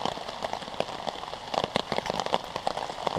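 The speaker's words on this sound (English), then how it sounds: "the wind is so kind to blow rain in on me" Rain patters on a hammock tarp pitched on a hill at an Appalachian Trail campsite in October, a close, steady crackle of drops with brief louder bursts as wind gusts drive it in.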